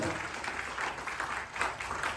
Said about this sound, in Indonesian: Beri tepuk tangan yang meriah lagi.